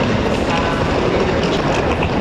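A passenger train running on rails in Russia, heard from on board as a loud, steady rumble and rattle of the carriage without voices.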